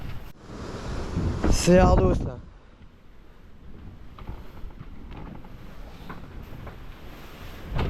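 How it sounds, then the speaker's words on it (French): Small racing sailboat on the Minitransat ocean race slamming through waves, with wind noise buffeting the microphone and water rushing against the hull, a loud burst early on then a steadier churning, with someone speaking briefly. "Le bateau il essaie d'accélérer mais il se fracasse dans les vagues"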